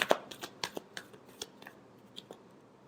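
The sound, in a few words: shuffling tarot cards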